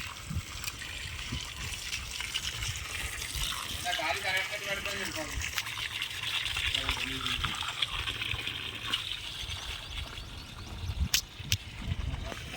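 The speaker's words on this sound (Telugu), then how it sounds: "ఇదైతే నీళ్ళు వస్తున్నాయి" Water gushes steadily and loudly into a dry field without pause, with some faint, indistinct voices mixed in.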